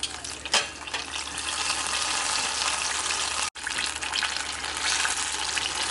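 Apple pie egg rolls fry in hot oil with a steady, dense sizzle and bubbling that runs unbroken throughout, with one sharp pop near the start and a brief dropout midway.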